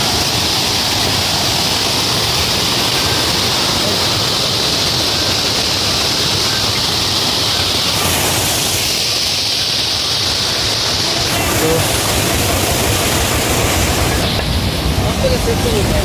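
A mountain waterfall roars continuously beside the steep trail from Gaurikund to Kedarnath, a loud broadband rush of falling water that fills the whole stretch without pause.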